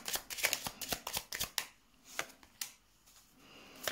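Tarot cards riffled and drawn by hand, giving a rapid run of crisp papery flutters and snaps that fade to a few scattered, quieter slides and taps near the end.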